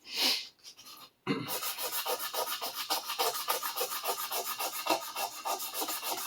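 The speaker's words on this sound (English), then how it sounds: "My sharpening stones will take out any little bits of garbage that are right down at the edge." A Minamoto Sujihiki knife blade is drawn back and forth over a sharpening stone in a quick, even rhythm of gritty rubbing strokes, close and steady after a brief opening noise and pause.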